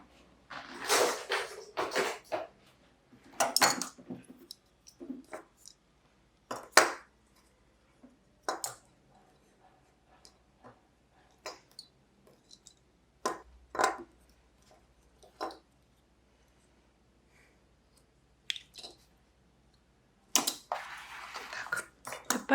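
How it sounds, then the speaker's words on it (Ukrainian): Scissors snipping through a ribbon folded in half for junk journal spine decor, a series of sharp, close clicks and cuts in scattered bursts separated by quiet pauses. "розрізати цю стрічку"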